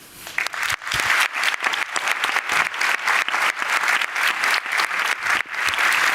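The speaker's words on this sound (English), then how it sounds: "So I really applaud to Hervé" An audience at a talk on international collaboration behind the James Webb Space Telescope claps close and loud, the applause dense and sustained for about six seconds.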